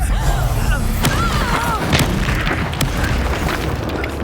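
Deep booming spell blasts and bursts from the Hogwarts Legacy video game, a loud rumbling explosion with crackling debris and whooshing effects, continuous and heavy throughout.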